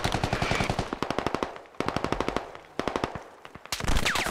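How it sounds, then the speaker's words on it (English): Heavy machine gun fire in the video game Squad, from a friendly HMG: several long bursts of rapid, evenly spaced loud shots with short pauses between them, close and dominant, then a sharper blast near the end. "it's a friendly HMG trying to murder us right now"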